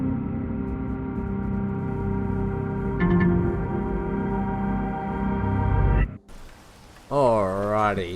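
Rain falling in the Space Engineers video game, a steady dense patter with a reverberant, echoey tone that cuts out abruptly near the end, followed by a brief burst of a voice.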